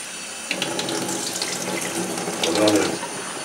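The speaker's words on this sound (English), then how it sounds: "And so you're rinsing the anchovies." Water streams from a kitchen tap while anchovies are rinsed under it, a steady splashing flow with small shifts as hands move the fish, no speech.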